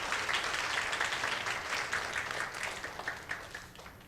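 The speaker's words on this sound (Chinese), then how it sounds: "欢迎你我们拍手" A church congregation at a Sunday service claps to welcome a first-time visitor, a dense, continuous patter of many hands that tapers slightly toward the end.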